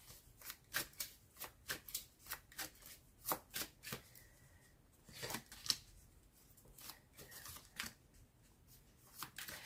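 Tarot cards being shuffled by hand, a steady series of crisp riffling bursts repeating roughly every half second, close and fairly quiet with no talk.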